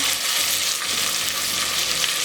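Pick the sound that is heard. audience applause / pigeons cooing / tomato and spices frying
tomato and spices frying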